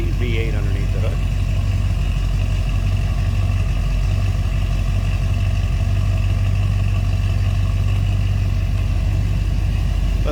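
1960 Cadillac Series 62 convertible with its 390 V8 idling steadily under the hood, a constant low rumble up close with a voice talking over it.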